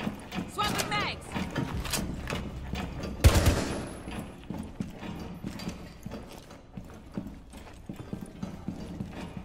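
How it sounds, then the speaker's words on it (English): A magazine swap during a Rainbow Six tactical shooter match gives mechanical clicks and ratcheting metal clacks, with one sharp loud snap in the middle. Game sounds and a voice continue around it. "Swapping mags!"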